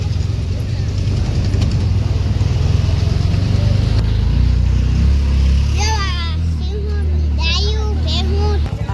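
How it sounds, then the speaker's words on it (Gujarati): Busy town-market street traffic in Sihor on Hanuman Jayanti, with a steady low engine rumble, passing vehicles and a few honking horns late on, under continuous crowd noise and people talking nearby. "બહુ ટ્રાફિક છે હારા ભારી"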